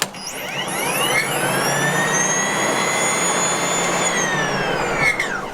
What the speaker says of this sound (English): There's still a motor that's running, and the auger still has to spin quite quickly, so you get this really high-pitched sound.